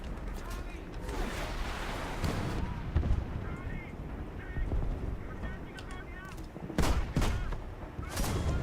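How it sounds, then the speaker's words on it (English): Artillery barrage in War Thunder, a dense run of booming impacts and crackling gunfire that swells in bursts, with sharp blasts near the middle and end, mixed under ongoing game noise and a speaking voice. "Let's go ahead and send artillery their way."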